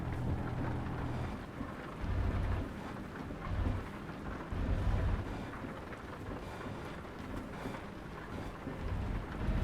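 Steady rain falls in the Euro Truck Simulator 2 driving game, a dense continuous hiss with low rumbling underneath and occasional swells. It runs throughout, with no talk.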